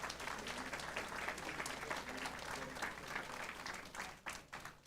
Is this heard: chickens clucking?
no